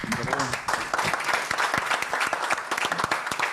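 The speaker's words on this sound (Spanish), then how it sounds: "Aplausos." An audience applauding at the end of a panel discussion on a trade agreement with China, a dense burst of many hands, with voices speaking over part of it.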